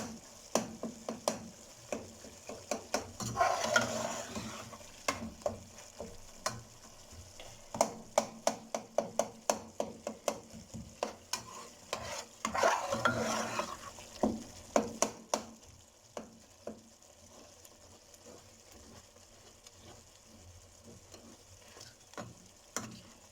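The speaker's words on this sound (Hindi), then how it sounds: "फाइव मिनट्स के लिए आप इसको अच्छे से भून लें।" Beef karahi stir-fries in a pan, a soft sizzle running under repeated scraping and stirring strokes that come in bursts, fairly quiet and close, with no voices.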